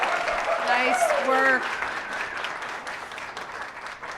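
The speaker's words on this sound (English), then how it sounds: "Let's just have one more round of applause for all the top 10" An audience at a startup showcase launch party in Calgary applauds the top 10 startups, with steady clapping heard under a brief spoken remark before the applause fades.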